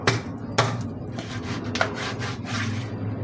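A knife cuts a tilapia that was cleaned at the market. A few sharp, close cutting knocks stand out over softer rubbing and scraping strokes against a board.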